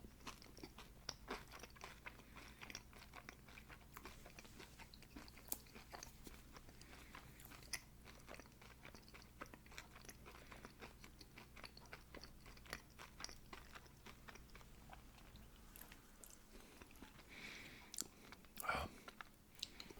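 Someone bites and chews a spring roll close to the mic, with steady crunching and soft mastication continuing throughout, quiet and intimate, with no speech.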